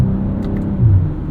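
A 2023 BMW M340i xDrive with a ZF 8-speed automatic accelerates, a steady low engine rumble and whir that swells briefly toward the end, close by and with no talk.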